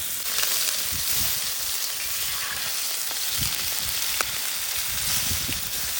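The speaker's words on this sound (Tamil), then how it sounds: "என்ன காஞ்சித்த மசாலா போட்டு ஊற வச்ச மீனை எடுத்து போட்டு வறுத்துக்க வேண்டியதான்." Masala-marinated gold stripe sardinella fish fries in a pan in a village kitchen, a loud, continuous close sizzle and crackle with occasional pops.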